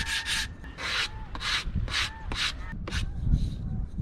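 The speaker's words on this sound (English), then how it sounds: "I have chunked off and tidied up with a few chamfers a support block" Rhythmic close-up rasping of a wooden support block being shaped and chamfered aboard a wooden boat under restoration, about eight short bright strokes with brief gaps, loud and near, no talking.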